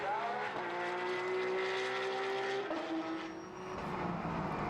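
A Porsche GT3 Cup race car passes during a Benelux race, its engine note rising in pitch then dropping as it goes by, fairly near and without talk.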